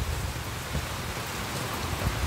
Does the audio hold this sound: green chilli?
no